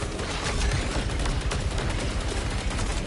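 Laser turrets fire in the video game Saros: a dense, rapid stream of sharp blasts repeats steadily for about three seconds, loud and close, with no talking.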